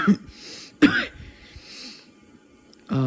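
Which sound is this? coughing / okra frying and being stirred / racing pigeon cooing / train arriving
coughing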